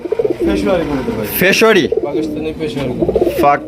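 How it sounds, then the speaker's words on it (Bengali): Pakistani fancy pigeons coo in soft, repeated throaty bursts, heard close by with a person talking over them. "পাকিস্তানি ফেসরি কবুতর এই যে দেখেন চমৎকার একটা বাচ্চা আছে"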